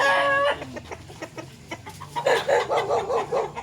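Laying hens cluck repeatedly in a close, busy rhythm, a rooster-like call opening before a run of staccato clucks and cackles, fairly loud with no talk over them.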